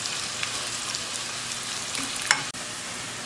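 Onions fry in a pan for chicken masala biryani, giving a soft, continuous sizzle with faint crackles and a brief stirring scrape near the end.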